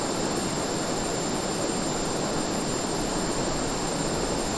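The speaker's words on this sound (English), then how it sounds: "Full afterburner." A MiG-29 jet engine roars at full afterburner in a flight simulator, a loud, steady broadband rush with a high whine on top, continuous and without speech.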